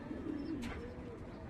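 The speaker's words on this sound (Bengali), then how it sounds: "একেবারে পিচ্ছি একটা মাদি কবুতর" A small female pigeon giving a soft, faint coo at close range, brief and low against a quiet, hissy background.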